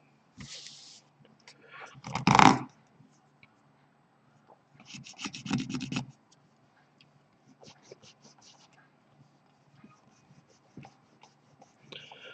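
Rubbing paint off a painted Warjack miniature: several short bursts of dry, scratchy friction, close and fairly loud, with quiet gaps and faint ticks in between.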